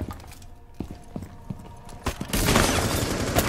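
Scattered sharp cracks and thumps build into a dense rapid burst of gunfire in the video game Rainbow Six: Siege, with loud continuous rattling toward the end.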